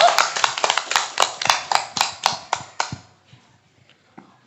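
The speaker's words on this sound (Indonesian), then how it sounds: "Tepuk tangan untuk Desa Sukamenak." An audience at a district talk show in Darmaraja, Sumedang, applauds a village with about a dozen sharp, evenly spaced claps. They ring out close and loud, then fade to a few faint taps and silence.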